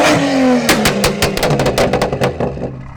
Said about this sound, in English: Right, rev her up, Reese.